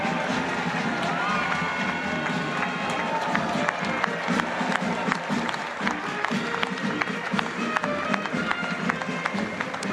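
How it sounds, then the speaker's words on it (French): Spectators and officials at a Bastille Day military parade in Marseille applaud a parachutist's landing, sustained dense clapping from a large outdoor crowd, loud and steady throughout. "Et on entend les applaudissements à la fois des élus, de la tribune et des spectateurs."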